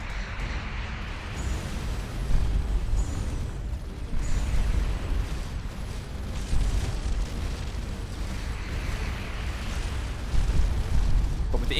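Missile explosions in Starcom Nexus space combat, a continuous dense roar of rumbling blasts with several swelling bursts, loud and sustained throughout with no speech.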